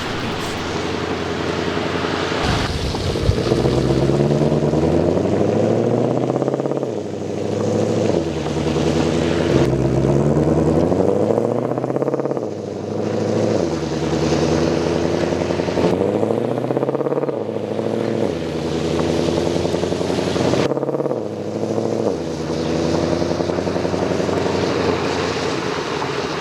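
A 700-plus horsepower Ford Mustang GT engine revs repeatedly, each pull climbing in pitch before dropping as gears change, loud and steady with no talk.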